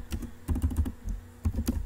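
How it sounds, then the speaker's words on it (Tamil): Quick bursts of keystrokes on a computer keyboard while typing into the gedit text editor, close and crisp, in two short runs separated by a brief pause. "ஜி எடிட்டில் அங்கே வந்து நீங்கள் டைப் பண்ணலாம்"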